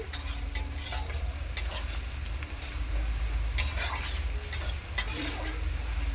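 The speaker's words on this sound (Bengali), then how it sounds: "গ্যাসের ফ্লেমটা একেবারে হাই করে দিয়েছি যাতে পেঁয়াজটা খুব ভালোভাবে তাড়াতাড়ি ভাজা হয়ে যায়" Onions frying in a pan over a high gas flame make a close steady sizzle with a low roar beneath, broken by periodic stirring scrapes and clanks of a spoon against the pan.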